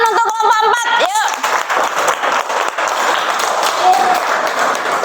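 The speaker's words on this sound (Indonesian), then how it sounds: "tepuk tangan untuk kelompok 4" Schoolchildren in a primary classroom clapping for a student group, a teacher's voice briefly at the start, then sustained lively applause continuing to the end.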